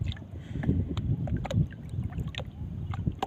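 Outdoor wind blows across a small boat on a river, buffeting the microphone with a low, uneven rumble and gusty bursts, alongside faint water and boat noises close by.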